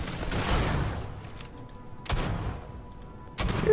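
A few sharp gunshot bursts in the Starfield video game, one near the start, another around the middle and a final loud one at the end, with quieter gaps between.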